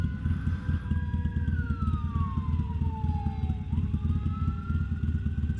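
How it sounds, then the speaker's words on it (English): A fire truck siren passes nearby, its wailing tone sweeping down and back up loudly over a steady low engine rumble, with no talking. "Oh, okay, fire truck."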